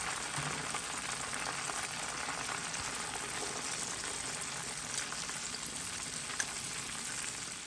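Chicken thigh pieces deep frying in a pot of hot oil, a steady dense crackling sizzle that holds level throughout, close by, with no talking.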